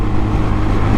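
A Royal Enfield Hunter 350 motorcycle accelerates hard at highway speed, its loud, close engine drone mixed with rushing wind noise, continuous throughout the short burst.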